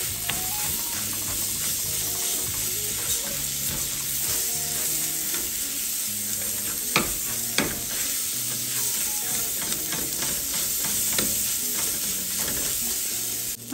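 Rice frying in melted butter in a pan, for Michoacán-style morisqueta, gives a steady, dense sizzle that holds evenly throughout with faint stirring clinks.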